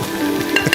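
Butter sizzles around chicken wings searing in a hot oiled pan, a steady close crackle with a few light clinks of utensil against the pan near the end.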